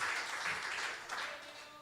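A church congregation applauds together, a dense wash of many hands clapping at steady volume through the whole moment, with a faint voice near the end.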